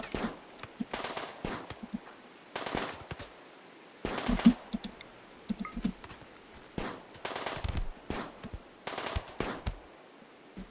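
Colonists open fire in the RimWorld Odyssey video game, bursts of gunshots crackling in short rapid volleys, about a dozen separate bursts spaced irregularly, fairly close and loud, with no talking.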